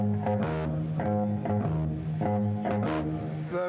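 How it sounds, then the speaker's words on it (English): Bass guitar played in an ordinary, typical bass style, a run of distinct plucked notes with steady sustained low tones and a few brighter attacks, loud and close with no talking. "the basic difference is that most bass players sound like this"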